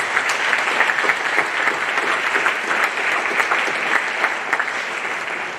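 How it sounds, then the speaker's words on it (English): An audience applauds at a high school National Honor Society induction, a dense, steady patter of many hands clapping throughout, fairly loud and even, with no voices standing out. "So would you please join me in a round of applause for both Vanessa and Heather."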